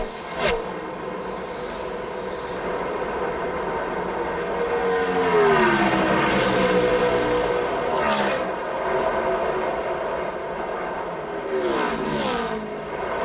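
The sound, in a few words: NASCAR stock cars racing at Indianapolis Motor Speedway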